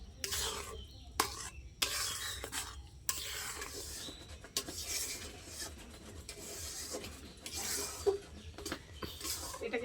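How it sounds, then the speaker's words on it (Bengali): A sweet carrot mixture is stirred steadily in a pan, giving a soft continuous scraping and rubbing with brief louder strokes, close by and without talk. "তাই একভাবে নাড়ে ভালো করে মিশিয়ে নেব আমি।"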